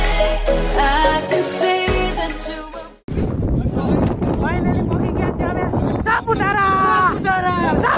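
Strong wind buffets the microphone on a foggy hill station at Saputara during the monsoon, a loud rumbling roar that cuts out briefly and then returns heavily, with voices faintly mixed in.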